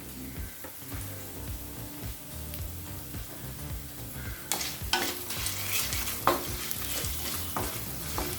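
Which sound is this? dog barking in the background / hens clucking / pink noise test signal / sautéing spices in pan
sautéing spices in pan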